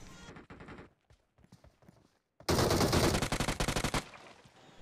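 UMP-45 submachine gun fire in the mobile battle royale game BGMI: a few short bursts early, then a loud, rapid sustained spray of shots lasting over a second, followed by scattered trailing clicks.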